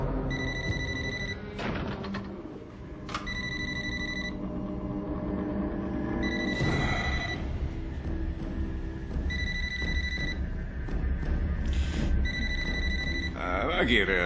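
A mobile phone rings in repeated bursts of an electronic tone, the rings recurring steadily throughout while people talk over them in a café scene.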